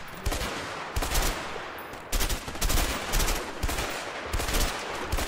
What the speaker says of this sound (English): I am missing every shot.